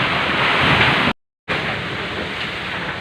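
Strong typhoon wind from Typhoon Ulysses roars in a steady, loud broadband rush against the microphone, broken by a brief dropout of silence before the gusting noise continues unabated.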